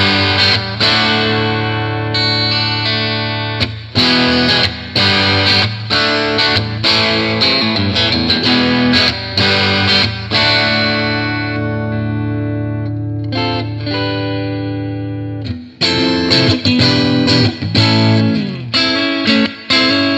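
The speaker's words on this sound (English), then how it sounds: "adjusting the amplifier controls for a moderate overdrive tone with reverb, I'll demonstrate a few tones and general riffs" Glarry Stratocaster-style electric guitar through an amplifier set for moderate overdrive with reverb, playing loud distorted riffs and chords with rhythmic stops, a sustained ringing passage and a brief break before resuming, with no voice over it.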